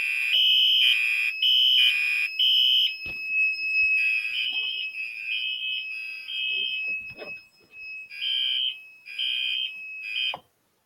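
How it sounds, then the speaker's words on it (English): A fire alarm sounds after a homemade pull station is pulled, a loud, piercing pulsed electronic tone repeating in bursts with a steady underlying whine, plus a few clicks before it stops abruptly. "So I'm going to pull my homemade pull station"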